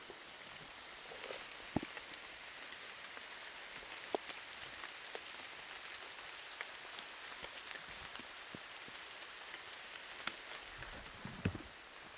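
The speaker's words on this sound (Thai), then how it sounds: "ฝนกระตกแล้วครับผม" Rain falling in a forest while searching for beetles, a steady soft patter across the canopy and ground, with a few sharper drips and light rustles scattered through it.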